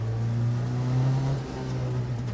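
Peugeot 205 Turbo 16 engine held at a steady, loud, close drone with a slight dip midway, like a throttle blip during a heel-toe downshift, with no talking.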